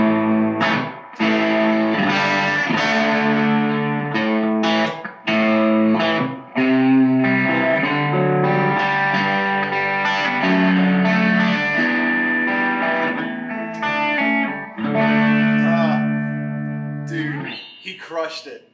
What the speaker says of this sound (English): the Tubescreamer sound is just driving mids. It's punching through mixes